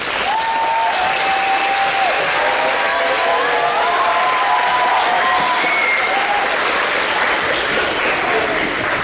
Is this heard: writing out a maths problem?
no